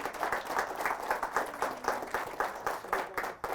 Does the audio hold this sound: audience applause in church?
yes